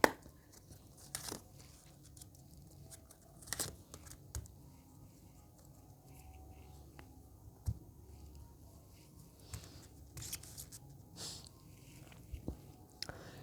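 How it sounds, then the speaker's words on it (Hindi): Tarot cards being shuffled by hand, with soft irregular riffles, flicks and taps close by and fairly quiet, with no talk. "final shuffle"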